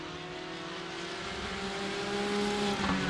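Sim racing car engine drones steadily in a racing video game at Barcelona, a loud sustained engine tone under continuous game audio with slight rising pitch, no voices.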